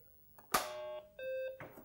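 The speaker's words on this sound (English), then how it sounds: "Just two beeps." Two electronic startup beeps in a row from an Acorn BBC Micro computer: a short, bright tone followed by a longer steady one, each with a sharp onset and ringing harmonics.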